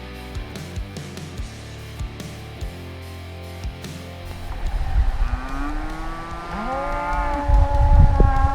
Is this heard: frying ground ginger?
no